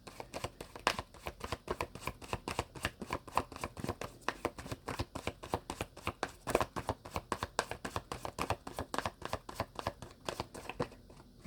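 Tarot cards shuffled by hand during a reading, a rapid, steady run of crisp riffling snaps and slaps, close and quiet, continuing without pause and with no voices.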